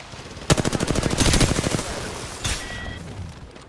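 A rapid burst of automatic gunfire rings out in Apex Legends, with fast evenly spaced shots for about a second, then a single sharp crack and a thin electronic whine, all loud and close.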